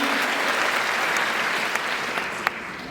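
Sustained applause from an audience welcoming Honorable Kemani Mugo, the Ziwani MCA, at a public gathering; steady dense clapping throughout, fairly distant, with a few sharper claps standing out near the end.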